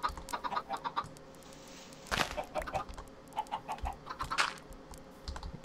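Chickens cluck in the video game Minecraft, in short, faint bursts mixed with steady close computer keyboard typing.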